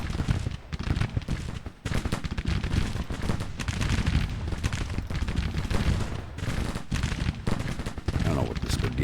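Civil War artillery and musket fire rage in the strategy game Grand Tactician: Civil War, a dense, unbroken roar of overlapping gunshots and cannon booms with only brief dips, loud throughout.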